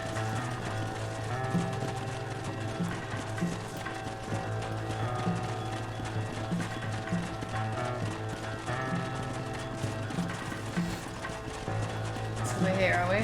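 A galloping horse in Red Dead Redemption pounds out a regular clip-clop beat over a steady low game score, with someone talking intermittently over it.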